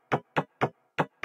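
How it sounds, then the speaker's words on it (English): Guitar cut noise sample from FL Studio's Flex plugin: five short, sharp percussive bursts in a quick, slightly uneven rhythm, each clipped off abruptly into silence. "one being this guitar cut noise from Flex that sounds like this."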